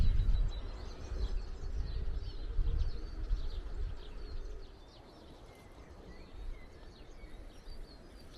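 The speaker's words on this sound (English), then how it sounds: "But just listen to the birds there." Birds chirp and sing across an allotment, with a pigeon cooing low and steady beneath the higher calls, all outdoors at middle distance over a soft breezy background.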